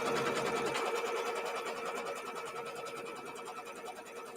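A sewing machine stitches out the main border of a Diamond in a Cross quilt block, a fast, even, mechanical rattle that runs steadily and close by throughout, gradually easing slightly in loudness, with no speech.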